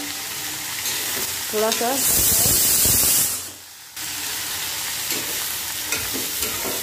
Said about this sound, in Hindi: बस आप इसको 2 मिनट तक हल्का रोस्ट कर दीजिए